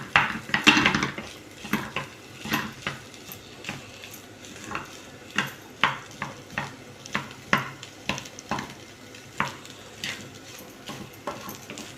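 A vegetable dish for a fast is stir-fried in a pan over raised heat: a low sizzle runs under repeated sharp spatula scrapes and clanks against the metal, roughly one every half second, close and alone.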